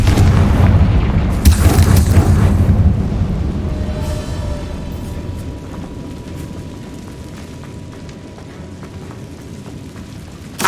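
Confringo fire spell blasts in the video game Hogwarts Legacy, loud booming explosions at the start that give way to a long crackling, rain-like rumble of debris fading steadily, with no talking.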